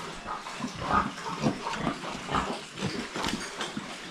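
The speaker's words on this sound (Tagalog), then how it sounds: "At ito po, yung mga bagong alay natin ng mga biik, oh." Newly arrived piglets on a small farm grunting and squealing in short, irregular bursts, close and fairly loud, with no voices.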